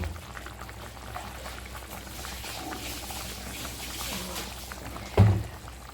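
A pot of curry simmers with a low, steady bubbling, then a short louder splash near the end as ghee is added.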